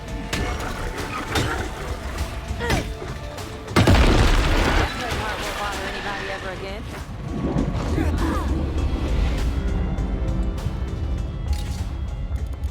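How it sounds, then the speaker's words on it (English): A smoke grenade going off in State of Decay 2, a sudden loud hissing burst that fades into a steady rushing wash over ongoing game noise and a low rumble. "now we're gonna use the smoke grenade"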